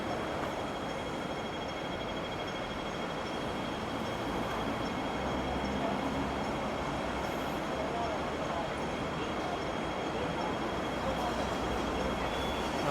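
A Hong Kong tram near a stop prepares to depart, a steady low rumble of rail and engine noise sustained at moderate distance, with a person speaking faintly over it.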